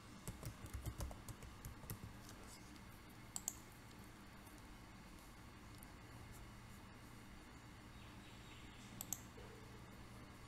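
Password being typed on a computer keyboard, steady soft key clicks running through the whole stretch with a couple of sharper taps, close and fairly quiet against a low background hum.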